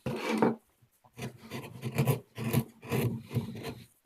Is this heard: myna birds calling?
no